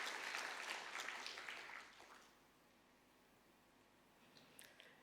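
Audience applause for students and teachers at a state-level World No Tobacco Day observation in Meghalaya, a burst of clapping that fades out after about two seconds, leaving quiet room tone with a few faint stray claps near the end.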